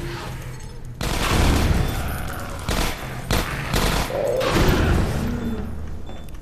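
Automated turrets in Half-Life 2: Episode 1 unleash loud, sustained bursts of gunfire, dense rattling volleys broken by a few brief gaps and thudding impacts, close and dominant throughout.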